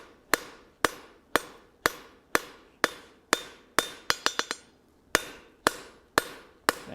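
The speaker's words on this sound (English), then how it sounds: "I hammer that away" Steel tong blanks being hammered on an anvil face to knock off their corners: about fourteen sharp metallic strikes in a steady rhythm, with a quick cluster of lighter blows in the middle, each ringing briefly and close by.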